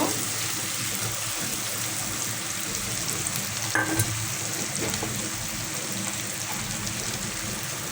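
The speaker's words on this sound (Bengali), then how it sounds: "দেখুন পেঁয়াজটাকে একটু ভাজা ভাজা করে নেব।" Onions fry in oil in a nonstick pan, giving a steady, close hiss and sizzle that runs unbroken throughout, with faint stirring scrapes and one brief clatter partway through.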